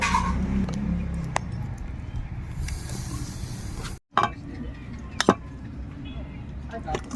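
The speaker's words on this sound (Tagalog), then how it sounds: "Kasi malapit ka sa kalsada, marami kang marinig na ingay." Road traffic near a street forms a steady rumbling wash with a few sharp knocks and passing swells, mid-distance and continuous, heard under outdoor background noise.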